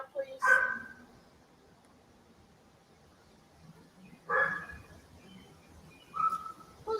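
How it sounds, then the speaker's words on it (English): A dog barks outdoors near a quiet porch, with a few faint, spaced yelps and whines in the distance and long quiet gaps between them. "Who's got a dog?"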